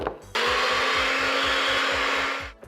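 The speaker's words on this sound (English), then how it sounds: "So I'm just gonna do it in my blender." A blender whirs loudly for about two seconds, a steady high motor whine with rhythmic chopping pulses, then winds down.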